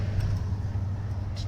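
A squarebody Chevrolet Suburban with an NV4500 five-speed manual and four-wheel drive pulls away from a stoplight, its engine giving a low steady rumble heard from inside the cab over road noise.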